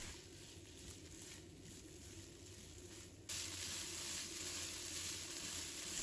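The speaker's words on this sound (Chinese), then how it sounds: "把锅烧热，加入适量的黄油，把黄油炒融化， 然后再倒入土豆，把它炒香。" Potatoes stir-frying in melted butter in a hot pan give a steady, moderately quiet sizzle and hiss that gets louder and brighter partway through, with no voices.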